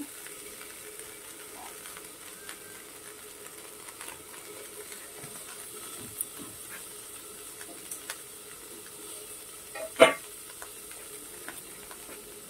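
Cooked rice tossed into a pan over a low flame with black pepper, bay leaf, whole cardamom, cinnamon and cloves: a faint, even sizzle with light stirring ticks and one sharp utensil clank near the end, no talking.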